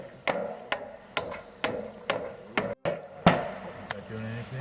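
Hammer tapping down screws on garden boards: about eight sharp, evenly spaced strikes, close and loud, with a short gap partway through.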